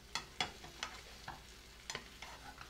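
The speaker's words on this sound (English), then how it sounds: "now I'm going to blend all of this together" A tablespoon of minced garlic is stirred into a sauce mixture, giving a handful of soft, wet scraping and clicking strokes of a utensil against the bowl, fairly quiet and unaccompanied by any voice.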